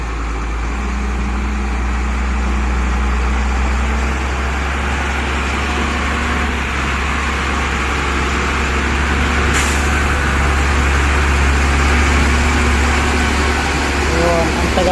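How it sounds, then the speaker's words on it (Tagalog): A stone-hauling truck idles with a steady low engine drone, and a single sharp hiss of its air brake comes partway through, all close by and loud. "Ito yung sasakyan."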